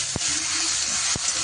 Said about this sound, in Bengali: শুকনো লঙ্কা বাটা, দিয়ে এবার একটু কষতে হবে